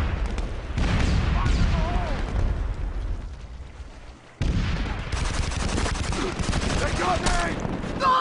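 Rapid gunfire bursts from a SOCOM 4 multiplayer match, dense volleys of shots filling the clip with a brief lull midway before the shooting resumes loudly, with faint voices mixed in.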